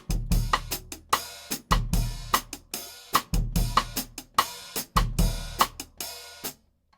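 Drum kit playing a bossa nova groove with the bass drum on beats 2 and 3, a steady repeating pattern of kick thumps, rim clicks and cymbal ticks, close and clear with no voices.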